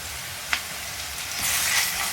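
Ginger garlic paste hitting hot oil with softened onions in a pan, a close, steady sizzle that swells louder toward the end after a brief clatter.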